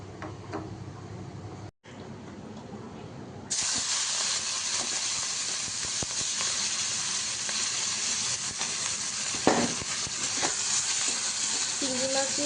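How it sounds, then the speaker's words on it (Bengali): Prawns frying in a pan for a Bengali prawn and ghetkul leaf dish, the steady loud sizzle and hiss kicking in after a few seconds of quieter kitchen sound, with a few light clinks over it. "আর এই যে অর্ধেকটা চিংড়ি আছে এটাকে একটু ভেজে নেব এখন।"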